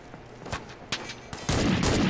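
Several sharp, spaced designated marksman rifle shots in the video game America's Army: Proving Grounds, a few distinct cracks followed by a louder, denser burst of gunfire near the end.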